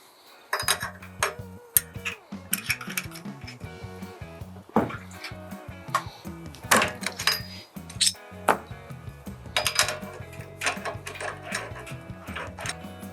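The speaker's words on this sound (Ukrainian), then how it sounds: "Для викручування використаю свічний ключ, який йде в наборі." A spark plug is unscrewed with a spark plug wrench on a TATA 170F petrol engine, giving a run of close metallic clicks, ratcheting and clinks of the tool against the engine.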